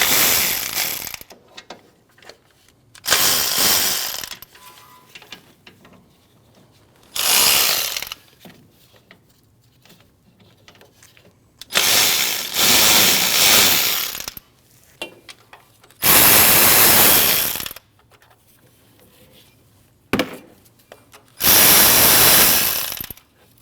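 A ratchet works loose the 12 mm water pump bolts on a 2014-2023 Jeep Cherokee 2.4L four-cylinder. Bursts of rapid clicking alternate with quiet pauses, about six separate runs, each loud and up close.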